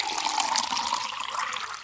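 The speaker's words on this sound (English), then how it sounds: "So she put some warm, soapy water into a large wooden basin" Warm soapy water pours and splashes into a large wooden basin, a steady rushing gush that stays loud and close for the whole stretch, with no talking over it.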